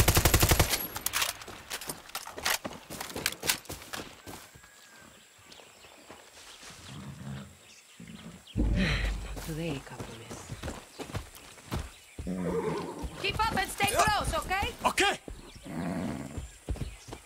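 Horse hooves clip-clop amid in-game action in Far Cry 6, with bursts of gunfire, rapid clatter and loud intermittent effects over a long stretch, and voices speaking at moments.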